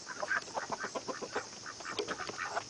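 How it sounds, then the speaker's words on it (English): Poultry calls from a rooster among chickens at a backyard chicken tractor, a steady jumble of short clucks and squawks close by, with no talk. "There's Mr. Rooster."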